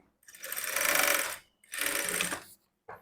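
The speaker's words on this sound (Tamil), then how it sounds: "முடிக்கும் போது லாக் ஸ்டிச் போடுறேன்" A sewing machine runs lock stitches on a blouse in two steady bursts of about a second each, with short pauses between and a brief start at the very end, close and fairly loud.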